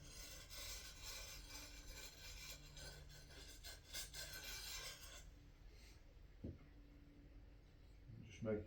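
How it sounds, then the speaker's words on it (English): A cigar-shaped sharpening stone rubs gently back and forth over a blade, producing a quiet, steady rasping scrape that stops partway, followed by a few faint knocks. "you would just gently rub over the blade with the cigar stone"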